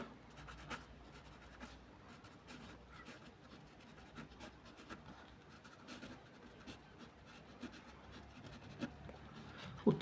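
Hand-writing a rough arithmetic calculation during a sixth-grade maths lesson, with steady low scratching and rubbing of pen on paper continuing throughout, faint and without speech.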